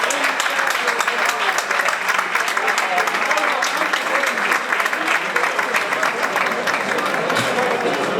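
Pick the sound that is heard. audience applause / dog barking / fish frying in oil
audience applause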